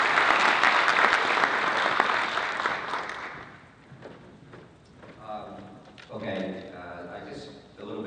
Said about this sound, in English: let's give a big round of applause once again for our panelists and for Pete